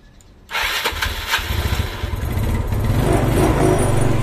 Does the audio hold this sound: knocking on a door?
no